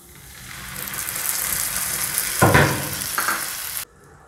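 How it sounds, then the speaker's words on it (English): Tomato paste hitting golden-brown fried onions in a pan for a cauliflower curry, a steady close sizzle that swells with a loud hissing burst midway, then cuts off abruptly. "Onions have become golden brown. Let us add the tomato paste."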